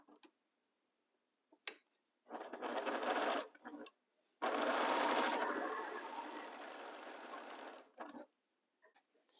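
A sewing machine runs a quarter-inch seam through pieced quilting fabric in two close, continuous bursts: a short run, a brief stop, then a longer steady stretch that trails off.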